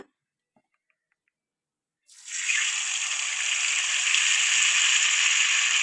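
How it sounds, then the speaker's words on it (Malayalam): Rice batter ladled into a hot coconut-oiled pan, silent at first, then a sudden loud, close sizzle that bursts in and holds steady for several seconds on its own. "ബാറ്റർ ഒന്ന് കലക്കിയതിന് ശേഷം അതിൽ നിന്ന് ഒരു സ്പൂണ് ഒരു തവി കോരി ഒഴിച്ചു കൊടുക്കുക"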